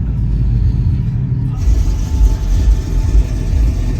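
An Audi RS5 Sportback with a Stage 2 transmission tune on a drag strip, its engine a loud, close low rumble that steps up partway through the run.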